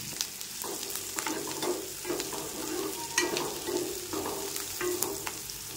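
Onions sizzle steadily in a hot pan for an aloo matar curry, with a spoon or spatula scraping and stirring through them at irregular intervals, close and moderately loud, no voices.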